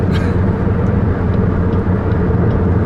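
A turbocharged 2008 Saturn Sky Redline drives with a loud, steady low engine drone heard from close by, with no talking.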